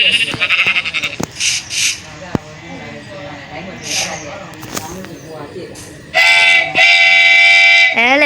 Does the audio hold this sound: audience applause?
no